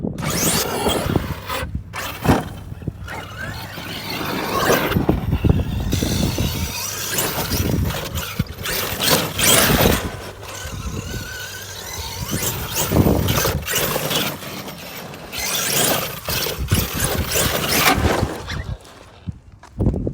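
A Kraton 8S RC car fitted with a Castle power system drives over rough ground and a small jump, its motor whining and tires scraping and thumping nearby, loud and continuous with sudden bursts.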